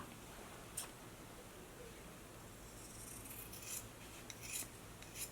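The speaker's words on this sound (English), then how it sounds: "But first, I'm going to go ahead and trim this off." Scissors trim fabric off a pants waistband during an alteration, giving faint, scattered rasping snips and rubs against a quiet background.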